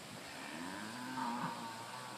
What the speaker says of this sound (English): So we've got some cows here, some local cows.